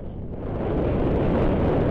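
Steady, loud wind roars and buffets against a cyclist on a road bike ride in Fayetteville, a continuous low rumble with no breaks and no talking.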